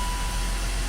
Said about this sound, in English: now it misfires again a little bit